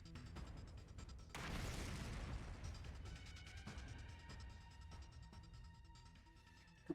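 A bomb blast in The Hundred Line Last Defense Academy: a sudden broad boom that rumbles and fades slowly over several seconds, with a faint mechanical clatter and a small pop at the end.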